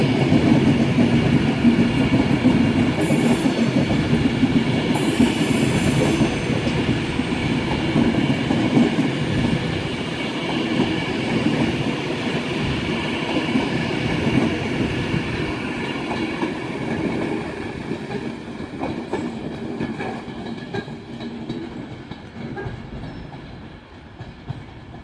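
A Virgin train passes through Carlisle station on the West Coast Main Line, a loud sustained rumble with rhythmic wheel clatter that slowly fades over about twenty-five seconds, with no talking.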